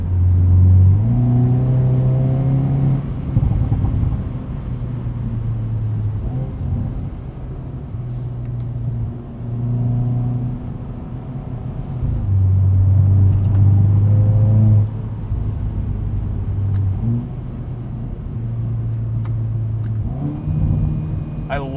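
A 2021 Hyundai Veloster N with DCT in manual mode revs repeatedly against its roughly 6,750 RPM limiter, the engine and exhaust droning loud and close in steady bursts with brief dips between pulls.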